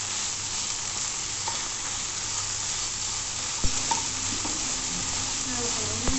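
Tomatoes and other ingredients for tomato chutney sizzle steadily in a pan while a utensil stirs, with soft scrapes and occasional light clinks over the continuous frying hiss.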